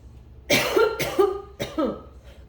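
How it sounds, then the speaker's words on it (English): Three harsh coughs in quick succession, fairly close and loud, with no talking. "There I am coughing."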